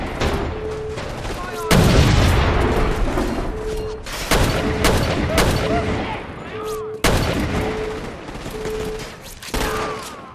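Gun turret fire in the video game Crackdown 2 pounds out in loud, repeated bursts with heavy booming impacts, several volleys separated by brief lulls and a faint steady tone underneath.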